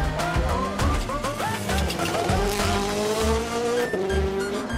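Hyundai i20 rally car sliding on polished ice at the Rallye Monte-Carlo, engine loud and close with revs rising and falling and tires hissing as it slides, continuous throughout.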